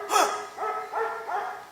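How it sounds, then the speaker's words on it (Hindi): Dogs bark in a series of four rhythmic yelps, with one louder bark followed by three softer ones at a moderate distance, during a Hindi stage play. "कुत्तों की भौंकने की आवाज आ रही है।"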